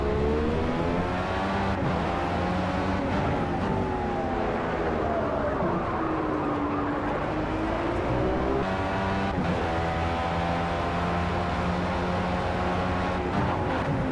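A Formula B race car at Imola in the Project CARS racing game drones loudly and continuously, with engine pitch rising and falling through gear changes and corners, and the car handling with damage.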